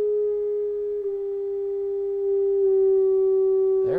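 A steady low sine tone plays through a loudspeaker in a sound-and-vibration science demonstration, holding almost unchanged for about four seconds before a brief rustle at the end.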